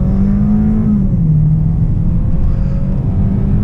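A Kia Sportage SUV engine roars loudly under full-throttle acceleration from 0 to 100, a deep sustained drone with a low tone that drops slightly as it shifts, heard from inside.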